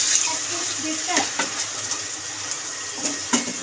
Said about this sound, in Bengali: এবার দিয়ে দেবো জল, উষ্ণ গরম জল যে করে রেখেছিলাম